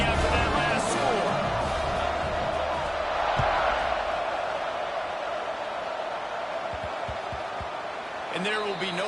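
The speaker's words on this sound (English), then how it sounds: "this crowd is buzzing after that last score" Football stadium crowd at a Clemson game buzzing after a score, a dense steady roar of many voices underneath a broadcast commentator, with a brief swell near the end.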